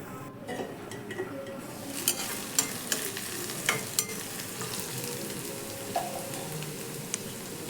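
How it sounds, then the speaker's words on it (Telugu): Sprouted green gram and onions fry in a pan with a steady, close sizzle, broken by occasional stirring scrapes and light clinks of the utensil against the pan. "ఆనియన్ కొద్దిగా వేగిన తర్వాత మొలకెత్తిన పెసర్లు, కొంచెం మూత పెట్టి మగ్గనివ్వండి."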